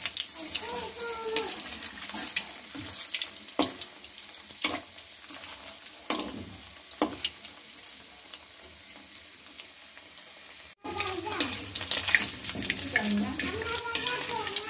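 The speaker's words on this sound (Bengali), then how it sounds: "তো আমার চাচাতো বোন এখানে চিকেন ললিপপ আর রোল ভেজে নেবে" Chicken lollipops and rolls frying in hot oil in a home kitchen, a steady close sizzle and bubbling throughout, with clattering utensils and brief faint voices in the background.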